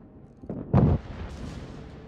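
A single deep boom from the secondary battery guns of the battleship Montana in World of Warships, rising sharply and then fading into a rumbling tail, heard alone and fairly close.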